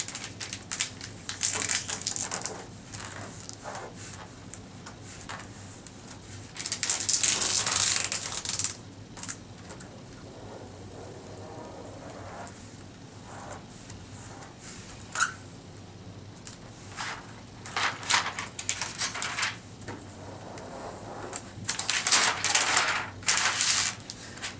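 Material being folded for an origami flasher gives crinkling, crushing creases and soft taps in irregular bursts, close and fairly quiet, with louder crackling flurries at a few points.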